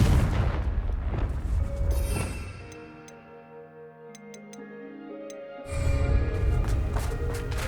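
A Confringo fire spell explodes with a heavy booming blast in the video game Hogwarts Legacy. A loud rumble rises, fades into a ringing, ticking lull, and then surges again.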